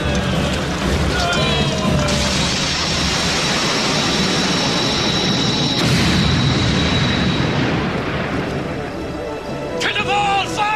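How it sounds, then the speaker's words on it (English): Cannon fire booms in a long, loud, rumbling blast that fills most of the stretch, with rushing noise, a faint whistling tone, and a few sharper cracks near the end. "Cannonball fire!"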